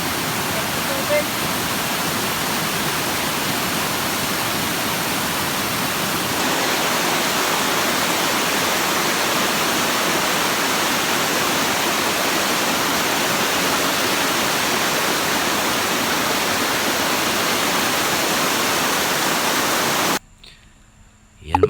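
Steady, dense rush of flowing water from a stream or waterfall in rural Sitio Macaingalan, Rizal, loud and continuous for about twenty seconds before cutting off abruptly near the end.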